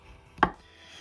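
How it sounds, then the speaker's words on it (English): A chisel cuts into guitar body wood on a left-handed guitar build, a single short, crisp tap close by in an otherwise quiet workshop. "now I can use my chisel to get down either side there"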